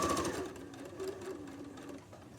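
Domestic sewing machine running steadily as it stitches an apron forward and back, a continuous close whirring hum with slight speed changes, easing off near the end.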